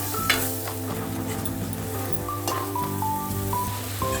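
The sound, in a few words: roasting and stirring masala for chole in a pan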